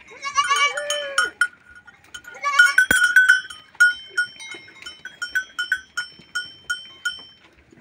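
Goats bleat loudly up close while a cowbell clanks in a steady, repeating rhythm, the bell continuing on its own toward the end.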